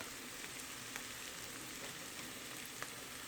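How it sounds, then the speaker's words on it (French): Red pepper, garlic and onions sautéing in a pan, giving a steady, soft sizzle with faint crackles throughout, heard close and alone. "Je fais revenir le tout environ 3 à 4 minutes."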